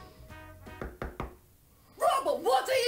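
Three sharp knocks on a door, evenly spaced and fairly close, followed by a short silence and then someone talking loudly over them.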